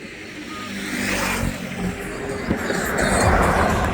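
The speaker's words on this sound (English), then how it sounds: "wait till this car goes by." A car drives past on the Matanzas Inlet Bridge, its road noise and engine swelling into a steady close whoosh over about four seconds, with the rumble growing toward the end.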